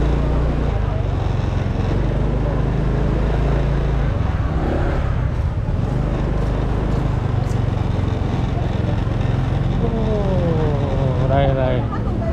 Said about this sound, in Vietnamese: Ô, kẹt xe.